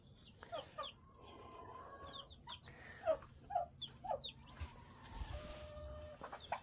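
A hen with newly hatched baby chicks on a homestead clucks softly in short repeated bursts, mixed with faint high peeps from the chicks, fairly quiet and close with low background noise.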